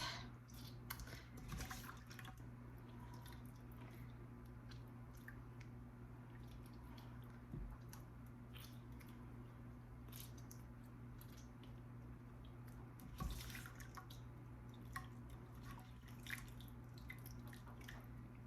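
Soft wet squishing and dripping as butter is pressed by hand and buttermilk drips off, with irregular squelches and occasional louder squeezes, close and fairly quiet with no talk.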